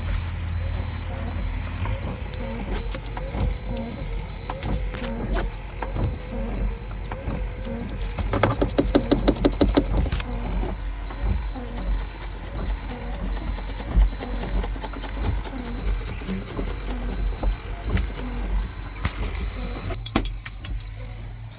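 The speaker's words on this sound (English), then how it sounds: "Key on, fan running, that runs." An electric fan on a dump truck runs with a steady mechanical hum and a faint whirring tone, interrupted briefly by a rapid clicking burst, while a voice talks over it.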